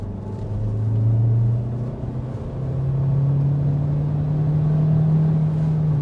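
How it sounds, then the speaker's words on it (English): A 2023 Kia Sorento Hybrid accelerating hard to 60 mph from a rolling start, heard from inside as a loud low engine drone rising in pitch, easing briefly at a shift, then climbing steadily again. "there's a bit of a rolling takeoff to 60 miles per hour"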